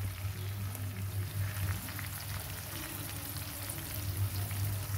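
Spicy macaroni being mixed in a pan, with a steady soft sizzle and faint scraping throughout, close and moderately quiet, with a low hum underneath.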